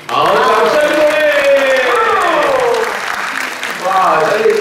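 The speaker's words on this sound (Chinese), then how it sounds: "好，掌声鼓励！" Applause at an SYM Fighter scooter press conference rustles steadily underneath a loud, continuous voice that dominates throughout.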